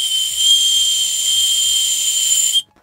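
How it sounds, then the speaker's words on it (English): A small whistle on a swim safety buoy gives one steady, shrill blast lasting a couple of seconds, loud and close, then stops abruptly. "It also has here as well, a little whistle."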